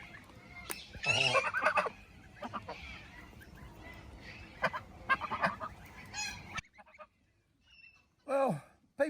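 Tame farm geese honk repeatedly nearby, loud harsh calls in several bursts with brief quiet gaps, and a few softer honks toward the end.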